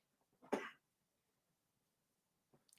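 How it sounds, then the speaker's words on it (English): A single short, sharp cough from a person, fairly close, followed by a faint brief throat noise near the end in otherwise quiet surroundings. "Why am I still coughing?"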